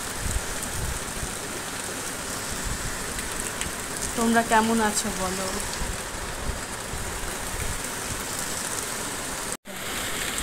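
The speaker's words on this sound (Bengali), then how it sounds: "বৃষ্টিটা এতই জোর এলো, কি আর বলবো, প্রচুর ঝড় বৃষ্টি হচ্ছে" Heavy rain from Cyclone Remal pours down in a loud, unbroken roar, with a person speaking briefly partway through and the downpour continuing under the voice.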